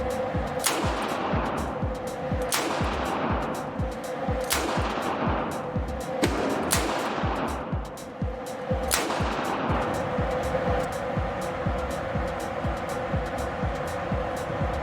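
Shots from a Smith & Wesson M360J snub nose revolver firing .38 Special rounds at a range, about seven sharp reports spaced a second or two apart over a steady background rumble.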